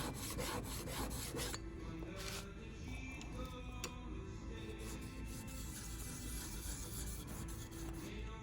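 A blade is rubbed back and forth on a DMT 600 diamond sharpening stone, a faint, steady rasping scrape repeating in even strokes, close and alone without talk.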